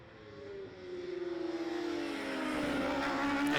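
Superbike engines in a GP Bikes Pro Superbike video game race at Shannonville rev hard and climb in pitch coming out of a corner, a loud, continuous buzzing drone with closely matched revs and no talking.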